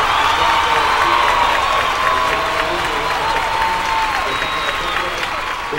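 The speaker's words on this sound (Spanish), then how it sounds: "Un aplauso." A loud, dense burst of audience applause mixed with cheering fills a television beauty pageant show rehearsal, sustained and even throughout, with voices carrying over the crowd.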